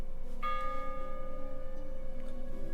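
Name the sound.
bells ringing in the video game Dredge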